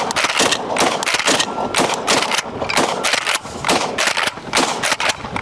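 Rapid gunfire at shooting targets, including blasts from a Smith & Wesson M&P 12 shotgun, cracks out in dense, overlapping volleys of loud, sharp reports with no break for several seconds.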